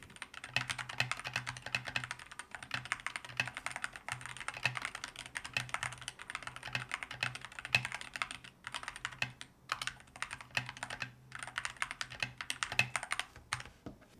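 Steady, rapid typing on a budget rapid trigger mechanical gaming keyboard, a dense stream of light clicky keystrokes with brief pauses, recorded close and heard alone.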